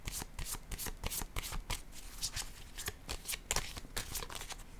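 Cards from a rose-colored oracle-style deck are shuffled and drawn by hand, giving a quick run of crisp, papery riffles and flicks close to the listener with no voice over them.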